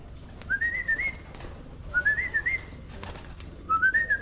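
A pigeon outdoors gives three soft, rising-and-falling calls spaced a second or more apart, clear against a quiet background with faint scattered taps.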